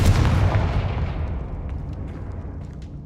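A Confringo spell explosion in the Hogwarts video game bursts with a loud, deep boom that rumbles and decays over a few seconds into a fading tail.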